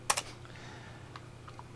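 Computer keyboard resting on a lap, a quick double keystroke at the start followed by a few faint, sparse clicks over a low background hum.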